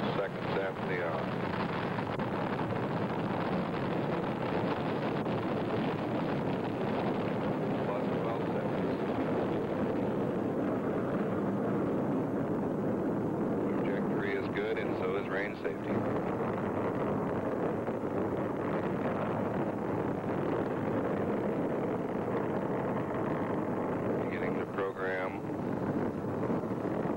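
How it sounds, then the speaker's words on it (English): Rocket lift-off in the Orbiter 2010 space simulator, a Gemini 10 Agena GATV-5005 launch, heard as a loud, steady broadband roar that fills the whole stretch, with a person talking faintly beneath it. "ignition. And we've got a lift off at looks like 46 seconds after the hour."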